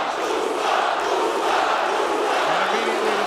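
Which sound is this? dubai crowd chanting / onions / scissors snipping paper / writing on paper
dubai crowd chanting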